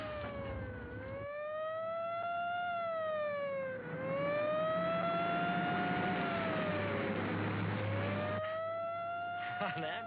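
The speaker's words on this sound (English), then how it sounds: "A stinking lousy ambulance." An ambulance siren wails loudly and continuously in a street scene from a drama film, rising and falling in long sweeps over a low rumble of traffic and engine noise.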